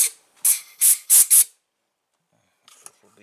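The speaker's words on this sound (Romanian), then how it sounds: "Eu iau aer comprimat și suflu un pic pe aici." Compressed air blasts through the oil pump area and oil passage of a Holzfforma or Stihl MS660 chainsaw: four or five sharp, loud hissing bursts in quick succession, then near silence with a few faint clicks.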